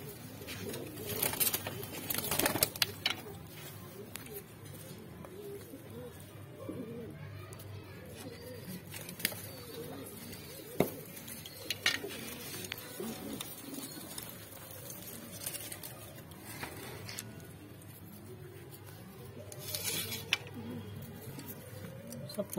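Saharanpuri kasni mix pigeons at a pigeon sale in Mandi Dhanaura, Uttar Pradesh, coo softly and repeatedly in low, throaty murmurs, with occasional wing flutters and clicks and someone talking intermittently in the background.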